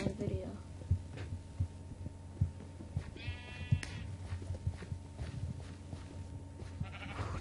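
Sheep bleat in the Minecraft video game, a couple of short nasal cries heard under game noise and a person talking.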